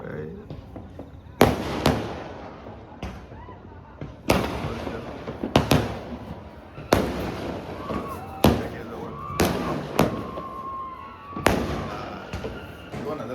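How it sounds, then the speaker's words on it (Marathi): Fireworks at midnight on New Year's at Ladghar Beach near Dapoli burst out at irregular intervals, sharp loud cracks with rumbling tails, while people talk softly in between. "फटाके उडवायला चालू झाले."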